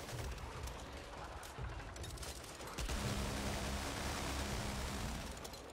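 A minigun in Back 4 Blood rattles out a dense continuous stream of rapid fire at moderate distance, with a mechanical whir underneath and brief voices.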